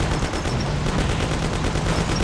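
Dense, rapid gunfire rattles continuously in the game Mafia: The City of Lost Heaven, fast repeating shots layered over a constant noisy background, no voices.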